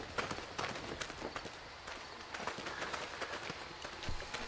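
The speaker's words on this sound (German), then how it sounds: "Habe ich gerade irgendwelche Schritte gehört." Quiet, quick footsteps patter irregularly in the horror video game Outlast 2, faint and somewhat distant, with a soft background ambience and a heavier thud near the end.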